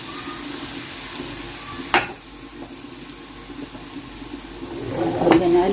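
Semolina flour frying in ghee in a pan, a soft continuous sizzle with scraping and stirring sounds, a sharp clink of the utensil early on and louder scraping toward the end.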